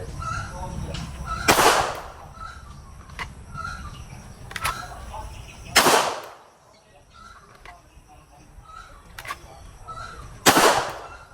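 Three loud pistol shots from a CZ P10F fitted with an HB Industries striker spring, fired outdoors, spaced roughly four seconds apart, with faint birds calling between them.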